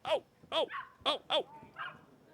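Puppy barking in the video game The Division 2, four or five short yips in an uneven rhythm with softer whimpering in between, fairly close but quiet.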